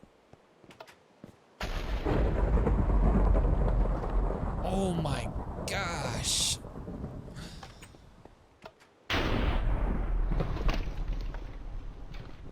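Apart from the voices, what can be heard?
thunder in a video game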